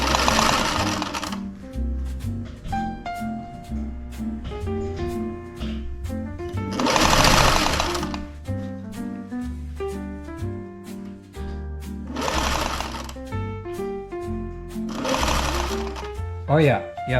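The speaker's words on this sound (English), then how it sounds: "And see if I can get it to follow that seam a little better." A sewing machine stitches tent fabric for a winter camping tent along a seam in several short, loud whirring bursts, with a person talking between and over the runs.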